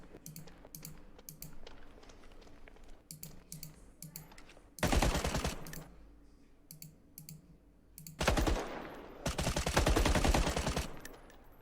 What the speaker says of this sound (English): The muzzle flash isn't animated.